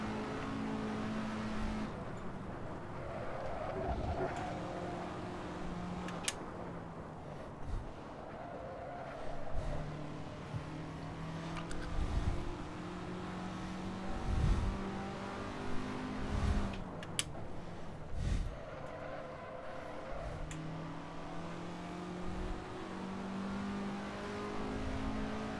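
A race car engine in a sim racing game at Goodwood, revving up and down through repeated gear changes in a steady cycle of acceleration and shifts, loud and close, with no talking.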